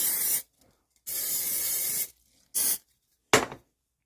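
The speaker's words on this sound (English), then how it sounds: "then we're going to spray like this" Four bursts of aerosol spray hissing from a can, two long and two short, close and fairly loud with silence between them.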